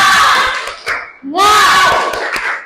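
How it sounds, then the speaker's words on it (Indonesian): Young pupils in a class shout a rhythmic spirit-clap chant in unison, loud and close, with claps punctuating the cheer before a short dip and a second burst of massed voices. "mari sama-sama kita tepuk semangat"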